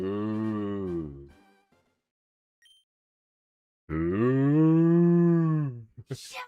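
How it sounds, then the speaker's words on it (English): A cow lets out two long, loud moos, the first trailing off, a silent gap, then a second sustained low bellow close by, ending with brief clicks. "Imagine that a neighbour thinks we've got a cow in the house."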